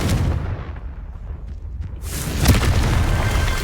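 A blasting spell detonates in Hogwarts Legacy, a loud booming burst landing about two and a half seconds in over a steady rumble of game noise, following a quieter, muffled stretch.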